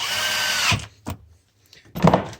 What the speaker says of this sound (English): take a little power drill, cinch them down